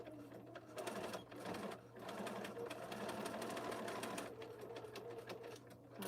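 A sewing machine back stitches a seam on a T-shirt quilt border with D-rings kept clear, its motor whirring steadily and close up, with brief slowdowns between runs.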